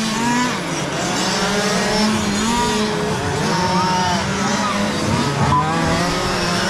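Two-wheel drive RC cars race in an A main, their high electric motors whining and sweeping up and down in pitch as several cars pass, with faint voices in the background.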